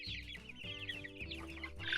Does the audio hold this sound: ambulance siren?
no